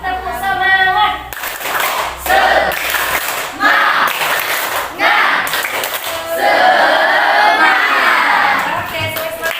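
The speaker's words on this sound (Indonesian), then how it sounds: "Kita tepuk semangat terlebih dahulu ya." Schoolchildren in a classroom perform a rhythmic spirit clap, bursts of unison clapping broken by short pauses, with loud chanting and shouting voices between and over the claps.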